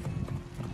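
Hooves of a black horse clip-clop steadily on the ground in the game Assassin's Creed Origins, close and rhythmic against a low background rumble.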